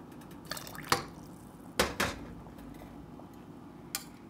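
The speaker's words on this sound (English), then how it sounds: "pour some dye in, and push the yarn into it" Wilton food color dye is poured into a pot of water holding yarn, giving a few brief splashes and drips with light clinks against the pot in an otherwise quiet kitchen.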